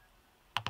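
A few quick keystrokes clack on a computer keyboard, three close, crisp taps in rapid succession after a brief quiet pause.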